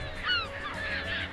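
Seagulls calling behind a boat at sea, a few harsh honking cries over a steady low engine and wind drone, fairly close.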